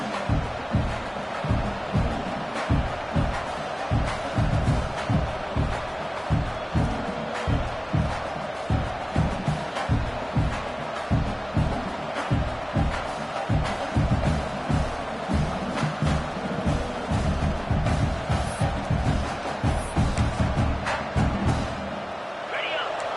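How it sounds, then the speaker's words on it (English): Steady American football stadium crowd noise swells and roars throughout as the defense holds in the red zone, a dense, loud wash of voices with rhythmic pulses, under occasional talk. "the crowd coming to life here, trying to help this defense down in the red zone"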